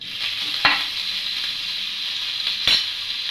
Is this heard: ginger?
yes